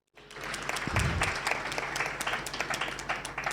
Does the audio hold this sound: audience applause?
yes